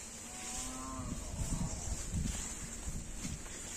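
A cow gives a low, drawn-out moo at a village farm in Dubai, heard against steady outdoor wind and background noise, fairly faint and without talk.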